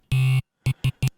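Harsh buzzing distorted synth tone with flanger, played as one long note followed by three short stabs, loud and dry, with a swirling edge.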